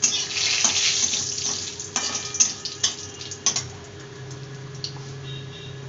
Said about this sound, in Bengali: জিরেটা হালকা ভাজা এসছে